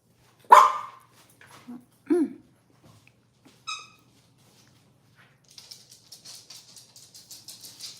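A dog lets out a few sharp, separate barks and yips with quiet gaps between them, then soft scratching and rustling follows.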